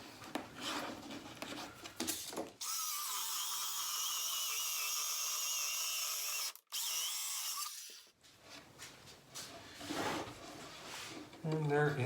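Power saw with a thin 1/16-inch kerf blade cutting wood while building a tall cabinet, a loud continuous whine for several seconds between quieter shop sounds, briefly dipping once mid-cut.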